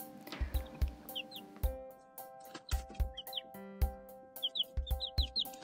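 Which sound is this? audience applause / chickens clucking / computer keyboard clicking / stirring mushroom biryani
chickens clucking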